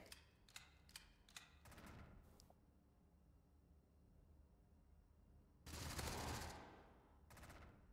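Automatic gunfire from the video game Gunpunk comes in several quick sharp bursts early on, then a louder sustained burst of spraying fire and a shorter one near the end, with quieter game ambience in between.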